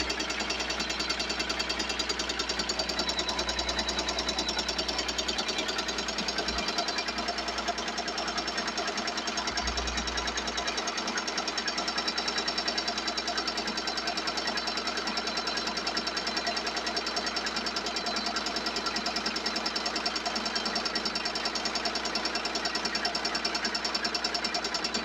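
A Tajima embroidery machine stitches a design on a baby cap at a moderate 600 stitches per minute, giving a steady, continuous mechanical whir and rapid needle chatter that runs unbroken throughout, close and even in level.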